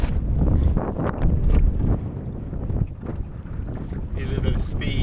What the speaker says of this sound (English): here we go with loads of gusts